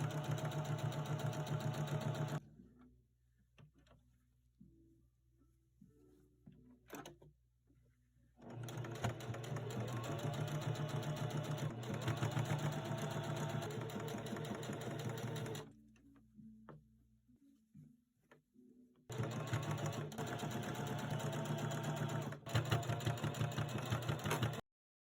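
A sewing machine top-stitches the seam of a pleated cargo pocket, running in three steady bursts of fast mechanical whirring and needle chatter, separated by quiet pauses with only a low hum, close and clear with no talking.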